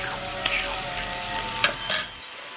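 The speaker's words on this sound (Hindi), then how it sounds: "अच्छे से भूनेंगे" Garlic, ginger, cloves and cinnamon frying in a pan, a steady soft sizzle with a couple of sharp utensil clinks against the pan near the end.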